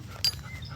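A small dog pants briefly outdoors, with a short sharp breathy burst close by amid faint background noise and no talking.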